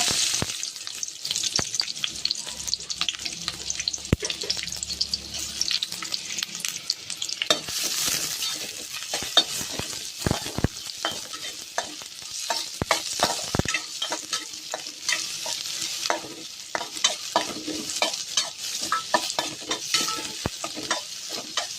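Onions fry and sizzle in a pan for a chicken green gravy, with a constant crackling hiss close by. Stirring scrapes and clinks against the pan come at irregular moments throughout.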